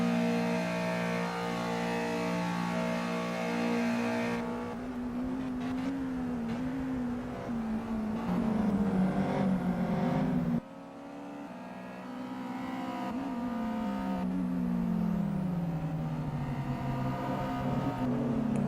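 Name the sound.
race car engines in Simraceway racing video game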